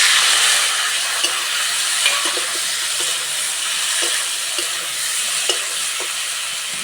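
Fried cauliflower is stirred in hot oil in a pan, with dried red chillies, bay leaves and chilli powder. A continuous bright sizzle runs throughout, broken by a few soft scraping clicks from the stirring, with no one speaking.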